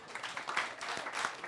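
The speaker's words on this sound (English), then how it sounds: "Give yourselves a round of applause" A short burst of audience applause at a variety show, fairly faint and brief. Scattered claps blend into a soft, uneven patter.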